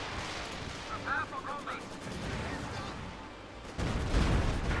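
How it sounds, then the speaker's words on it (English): Stuka rocket artillery firing in Company of Heroes 2 during a Soviets versus OKW match, a dense roaring barrage with rumbling impacts that swells louder near the end, mixed with other battle noise. "But Stuka's firing."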